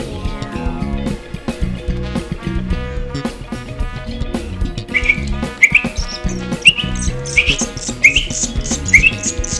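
Three hungry adopted baby birds chirp close by with high, sharp, repeated calls that grow more frequent in the second half, over a steady tonal background.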